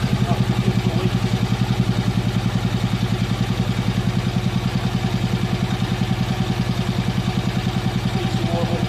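A BSA B31 single-cylinder motorcycle, filled with thick straight 50 oil, runs while warming up, its steady rapid thumping exhaust beats close and loud with a mechanical clatter throughout, and no one speaks over it.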